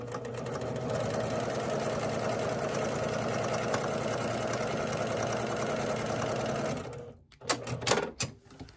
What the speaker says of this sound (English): I'm going to sew another line right down there.